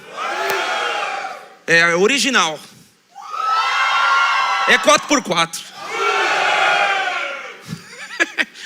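A church audience split into boys and girls teams cheers, whoops and shouts loudly in long swelling bursts, with a voice speaking briefly between the roars.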